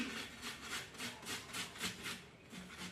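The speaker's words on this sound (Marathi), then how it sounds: "आता मी बटाटे किसून घेणार आहे एका ताटामध्ये बटाटे किसून घेते मी" Boiled potatoes are rubbed against a metal grater over a plate, making a steady rhythmic rasping of about eight even strokes, soft and close with no talk.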